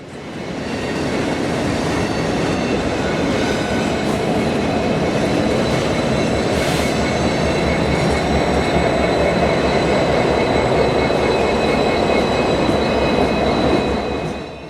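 An IHB GP12 transfer freight train hauling automotive containers rolls past close by, a loud continuous rumble with rhythmic wheel clatter and intermittent high wheel squeal, steady for the whole pass with no talk.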